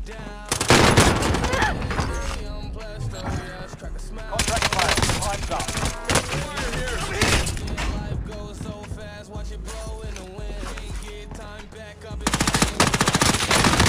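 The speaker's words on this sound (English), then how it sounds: "Taking fire here." Gunfire in the Warzone video game comes in loud bursts of rapid automatic shots, stopping and starting across the span, with game sounds and occasional voices in between.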